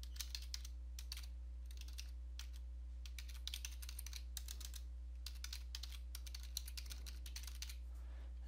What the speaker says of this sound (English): we'll just type that in over here